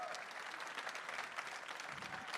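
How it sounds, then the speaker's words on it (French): Applause from a live audience at the final of a master gardener competition, with a dense wash of steady clapping held at a moderate distance and some faint crowd voices mixed in throughout. "Je vous demande de les applaudir encore très très fort."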